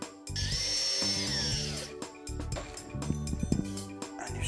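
Power drill driving cam fittings into wooden drawer-unit panels during furniture assembly, several close whining bursts of varying pitch separated by short pauses.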